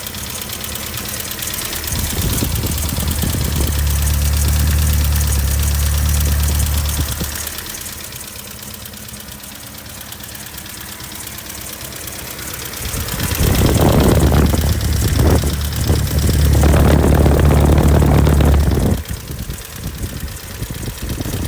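A 1971 Datsun 1600 SSS's 1.6-litre overhead-cam engine idles steadily with a low, even rumble, rising briefly in two bursts of revving before settling back.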